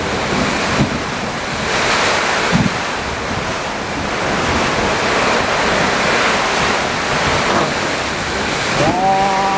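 Strong summer storm wind roars continuously around a house in Thailand, a loud, dense gusting rush with a brief tonal sound near the end.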